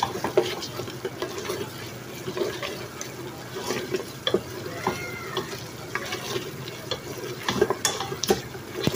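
Mutton pieces with added spices stir-frying in a pan for palak gosht: a steady low sizzle with frequent scraping and clinking of a spoon against the pan, close and moderately loud, with no talking.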